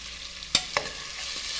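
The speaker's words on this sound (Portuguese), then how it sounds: "tô fritando a linguiça" Smoked sausage frying in a pan gives a steady close hiss, broken by two sharp clicks of a utensil against the pan, with no voices.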